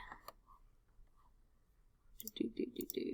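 A computer mouse clicks a few times up close, sharp and light, after a quiet stretch with faint soft speech.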